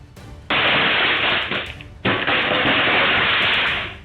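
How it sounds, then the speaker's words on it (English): Fireworks going off inside a home, two dense crackling bursts in quick succession, each loud and sustained for about a second and a half, with rapid popping and fizzing within each burst. "A quiet home suddenly turned into a fireworks stage."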